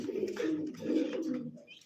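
A white beauty homer pigeon coos nearby, a single soft, low, rolling call lasting a second or so in a quiet setting.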